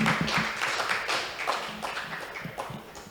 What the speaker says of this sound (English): So, ladies and gentlemen, another round of applause,